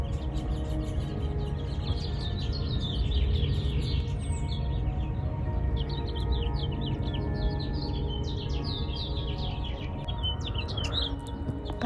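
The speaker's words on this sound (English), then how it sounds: "Morning, listening to the birds chirp," Small birds chirping and tweeting in the early morning at a yoga retreat, many quick bright calls scattered over a steady low background hum, fairly near and continuous.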